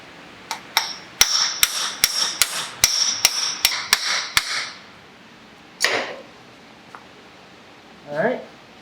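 Sharp metallic hammer strikes on the end of a Honda Civic Si CV axle with a castle nut, about a dozen evenly spaced close blows, then a pause and a couple of scraping clanks.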